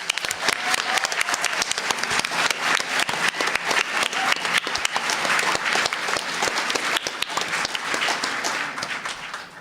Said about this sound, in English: So I'm going to give them a round of applause.